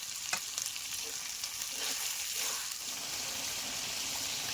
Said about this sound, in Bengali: মশলা দিয়ে ভালো করে একসঙ্গে একটু কষিয়ে নিয়েছি